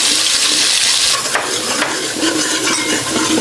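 Tinday gosht sizzles and fries in a pan with salt, turmeric, red chili powder, garam masala and dried coriander, giving a loud, steady hiss with scraping stirs throughout.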